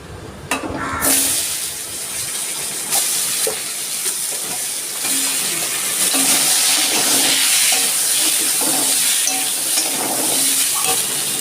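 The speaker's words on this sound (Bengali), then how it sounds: "আমি এবার আলুটা একটু ভেজে নিচ্ছি" Potatoes frying in a pan of hot oil, a steady loud sizzle running throughout with occasional stirring scrapes, following a batch of small fish.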